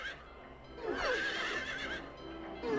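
Horses on a carousel in Silent Hill 3 give out a loud, close whinny with a rising and falling neigh in the middle, layered over a steady game ambience.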